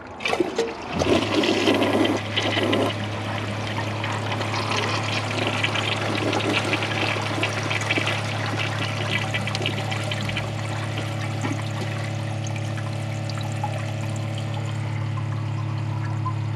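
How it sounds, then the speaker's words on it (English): A Kohler Wellworth elongated toilet flushes loudly up close, a rushing pour of water settling into a steady trickle and hiss as the tank refills for the rest of the clip, with no talking. "I'll give it another flush after the tank is full."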